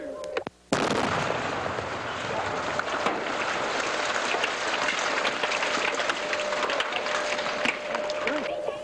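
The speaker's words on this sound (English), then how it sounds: "Not only did the tower not fall, but the explosion rocked a 3-block area" A dynamite blast set off at an old cooling tower erupts after a brief dip to near silence, followed by a long, dense roar of rumbling debris and crackling that stays loud and steady to the end.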